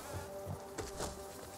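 Bee enemies in the Hollow Knight hive area drone with a steady insect buzz, several swelling passes over a low humming game background, with no talking.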